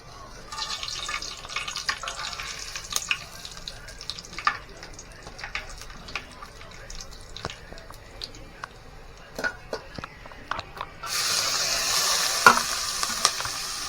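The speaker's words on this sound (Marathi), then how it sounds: "कांदा थोडं चांगला परतून घ्यायला लागेल तेल जास्तच तापलंय" Chopped onions sizzle in very hot oil in a home kitchen pan for prawn rice, with repeated scraping stirs over a steady hiss that swells into a louder, brighter sizzle near the end.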